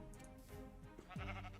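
A Minecraft sheep bleats twice in quick succession, clear and close, with a soft game ambience underneath and no talk.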